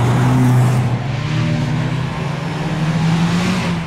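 A deep, rumbling Škoda Octavia RS 230 performance exhaust drones steadily, its pitch dipping and then rising slightly as the engine revs.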